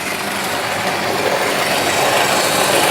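A Märklin model train runs along a home layout loop, giving a steady, close rolling rumble with faint wheel clatter that holds even and unbroken throughout.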